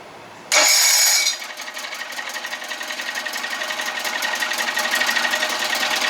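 Dino's 85 hp "Dirty 30" outboard motor, fitted with a new water pump, gives a short loud burst and then settles into a fast, rapidly pulsing rattle that runs slowly and steadily gets louder.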